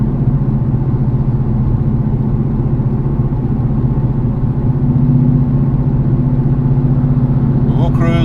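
A 2016 Ford Mustang cruises at low speed on a road, its engine humming steadily and close with a constant drone throughout, someone talking over it.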